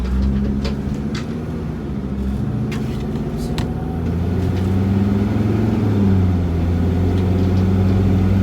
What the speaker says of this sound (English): We're driving 50 miles an hour.